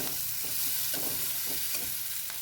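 Drumstick pods fry with onions in oil over a low flame, a dense, continuous close sizzle with faint scraping stirs running through it and no voices.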